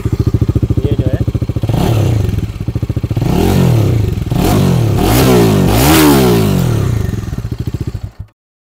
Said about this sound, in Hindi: तो इसका जो एग्जॉस्ट का साउंड है वो बहुत ही बढ़िया है। अगर मैं आपको इसका साउंड सुनाऊँ